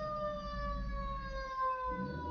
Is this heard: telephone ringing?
no